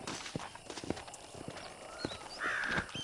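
A horse in Red Dead Redemption clops its hooves in a loose walking rhythm, moderately close, amid outdoor game ambience with a few faint whistles and chirps.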